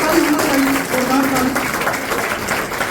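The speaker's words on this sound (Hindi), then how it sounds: "जोरदार ताली होना चाहिए," A crowd greets guests with applause at a Jan Suraaj Yuva Sangharsh Yatra welcome gathering. The hiss of many clapping hands runs continuously under a voice speaking over it.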